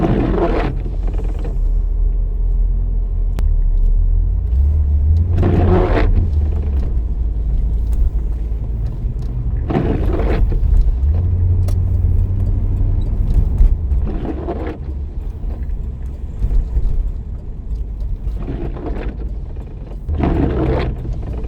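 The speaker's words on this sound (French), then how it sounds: "Tiens, encore une corvette." A Chevrolet Corvette on a vineyard road in Champagne during a club rally, heard as a steady low engine rumble with several swelling pulses as cars pass, no talking.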